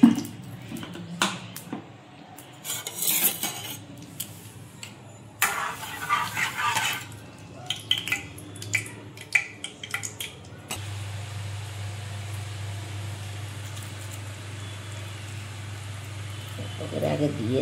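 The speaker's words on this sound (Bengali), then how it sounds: "এবার আমি সাদা তেল দিয়ে ভাজছি বড়া" Small shrimp fritters fry in white oil, a steady, fairly loud sizzle taking over after a stretch of kitchen clatters and knocks, with no voices.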